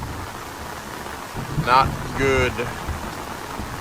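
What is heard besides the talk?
heavy rain falling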